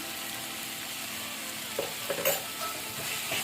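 Tomato chutney sizzles quietly in a pan under a constant frying hiss while a spoon scrapes and clinks against the metal a few times in the later half, close by, with no voices.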